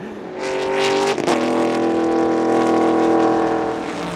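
A race car at a TSS 2019 track event screams past at speed, its engine a loud, steady high-pitched whine that swells and holds with a brief shift partway through, with no talk over it.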